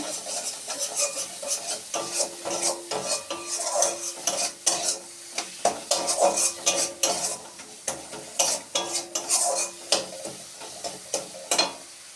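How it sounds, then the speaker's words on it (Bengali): Pumpkin and potato curry with spices, sugar and lentil nuggets is stir-fried in a pan, a soft sizzle under repeated scraping and clinking strokes of a spatula, close and rhythmic. "আমি বাড়িটাকে খালি ভালো করে কষিয়ে নেব"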